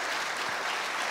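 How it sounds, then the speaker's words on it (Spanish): A studio audience at a tango television program applauds to welcome a guest, a steady wash of clapping throughout, moderately distant and even in level. "Fuerte el aplauso para recibir a Andrea Díez"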